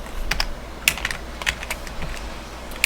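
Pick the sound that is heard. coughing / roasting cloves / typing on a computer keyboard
typing on a computer keyboard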